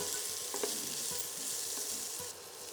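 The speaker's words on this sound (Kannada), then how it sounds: "ಇವಾಗ ನಾನು ಇದಕ್ಕೆ ಒಂದು ನಾಲ್ಕು ಈರುಳ್ಳಿನ ಸೇರಿಸ್ಕೊತಾ ಇದ್ದೀನಿ ಈರುಳ್ಳಿ ಒಂದು ಸ್ವಲ್ಪ ಗೋಲ್ಡನ್ ಬ್ರೌನ್ ಆಗೋವರೆಗೂ ಇದನ್ನು ಫ್ರೈ ಮಾಡ್ಕೊಳ್ಳೋಣ" Onions frying in a pan toward golden brown for a green pea gojju, a soft continuous sizzle at low level with a few faint stirring clicks, quieting slightly at the end.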